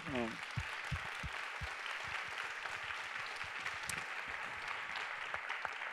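A conference audience at the Web2day 2019 grand final claps for the event partners, a steady patter of applause running throughout while a voice talks over it in the foreground.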